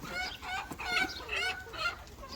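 Several hens pecking at greens and grain feed, giving soft, repeated clucks and chirpy calls close by in a steady, overlapping rhythm, with no talk.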